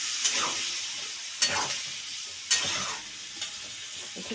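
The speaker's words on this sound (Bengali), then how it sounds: "একটু কষুক, হ্যাঁ মশলাটা।" Spice paste fries in a pan and is stirred, a continuous close sizzle broken by four sharp scraping strokes of the spoon at regular intervals, with no voices.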